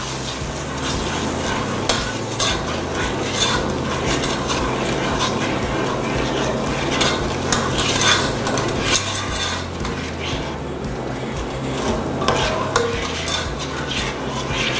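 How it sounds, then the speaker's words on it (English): Butter and sugar bubble and boil in a pot while a utensil stirs and scrapes through the mixture, a steady close clatter and sizzle running continuously without pause. "You also want to stir it, make sure everything's mixing up."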